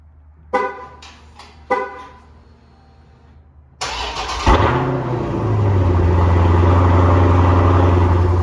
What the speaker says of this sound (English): Let's go ahead and get a cold start out of this piece. Let's go ahead and awaken the 392.